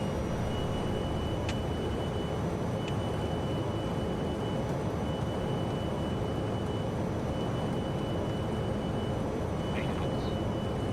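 Jet engines of an E-Jet airliner in MSFS 2020 spool up for takeoff from Southampton, a steady, loud broadband roar that holds throughout with faint tonal whine and occasional cockpit clicks.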